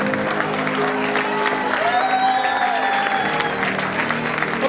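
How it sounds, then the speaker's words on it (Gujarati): An audience applauds at a live village drama performance with sustained dense clapping throughout, a voice carrying over the crowd noise. "ખરેખર એકદમ તાળીઓના જોરદાર ઠોકરા સાથે બોલાવીએ"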